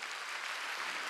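A church congregation at a Sunday service claps together, a brief, even wash of applause with no speech over it.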